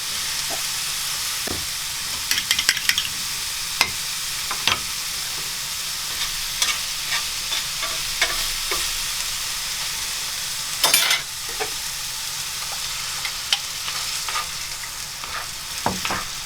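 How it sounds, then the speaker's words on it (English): Potatoes and minced garden squash seasoned with salt and pepper are stirred and scraped in a frying pan over a steady sizzle, with scattered clinks and scrapes from the utensil throughout; no voices. "I'm just going to scramble this all together"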